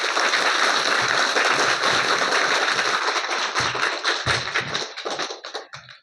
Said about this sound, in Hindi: ठीक है, जरा एक बार जोरदार शुभम के लिए ताली।